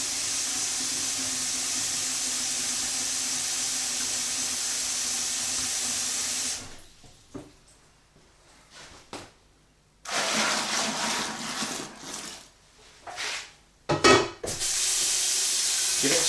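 Tap water gushes steadily into a stout homebrew fermenter with a loud, even hiss, then cuts off into quiet handling before running again in shorter bursts.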